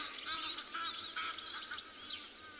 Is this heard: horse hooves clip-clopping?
no